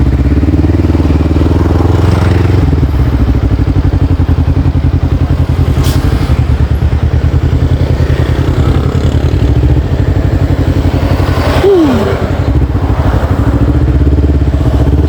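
A used motorcycle engine idles close by, a steady deep, bassy throb with a rapid even pulse and a few light mechanical clatters, running alone without voices.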